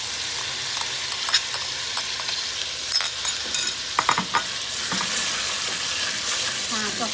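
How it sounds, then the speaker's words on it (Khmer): Pounded Khmer spice paste hits a hot pan and is stir-fried, with a steady loud sizzle broken by scraping stirring strokes, heard alone without speech. "យើងចាក់គ្រឿងចូលគ្រឿងដែលយើងបានបុកហើយនេះចូល"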